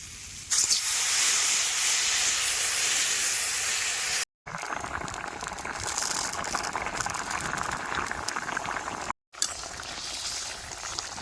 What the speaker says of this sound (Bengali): তরকারি বেশ ভালো মতনই ফুটে গেছে